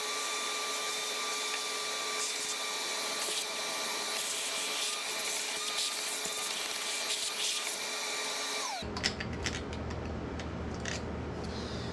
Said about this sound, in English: I'm going to take the vacuum and suck that up before it falls down in there